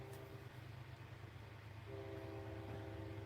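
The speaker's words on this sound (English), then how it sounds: "I hear a choo-choo train" A train rumbling past with long sustained horn blasts, the horn breaking off and then sounding again, heard from a distance behind room ambience.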